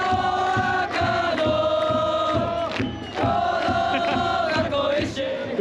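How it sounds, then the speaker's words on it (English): Football fans in the stands at a J League match between Ventforet Kofu and Iwaki FC chant and sing in unison over steady drum beats, a loud, rhythmic crowd sound. "The fans are cheering."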